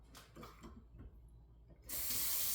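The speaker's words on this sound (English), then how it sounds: "I'm going to let that water run, and I am going to put it in the cup" Kitchen sink faucet turned on after some light handling clatter, the tap water then gushing in a loud, steady hiss that continues to the end.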